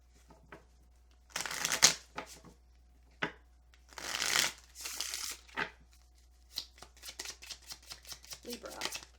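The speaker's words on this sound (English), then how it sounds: "See what these oracle cards say." Oracle cards shuffled by hand at close range: crisp riffling and sliding bursts, some long and some brief, followed by a quick series of light card flicks.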